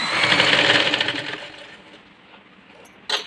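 A sewing machine stitches a princess-cut blouse, its close, rapid mechanical whir running for over a second before slowing and fading, followed by a sharp click near the end, with no voices.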